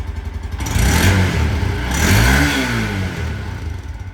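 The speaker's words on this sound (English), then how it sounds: "So now I'm going to give it a few revs." A 2022 Honda Grom fitted with a Yoshimura RS9T exhaust revs up twice in quick succession, each blip rising sharply then falling back toward idle, loud and close with a raspy, buzzy tone and no talking.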